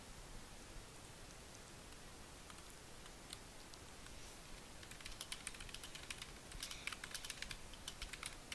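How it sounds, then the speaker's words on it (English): Someone types on a computer keyboard, a steady run of light rapid clicks that grows denser and louder toward the end, with soft background hiss. "Sorry, I'm typing."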